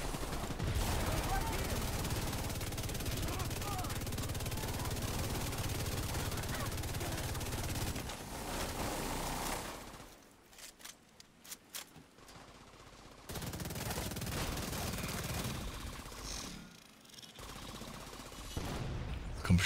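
Heavy gunfire in the video game The Division 2, dense continuous bursts of shooting for several seconds, then a quieter gap with a few isolated shots before the firing resumes, with talking mixed in.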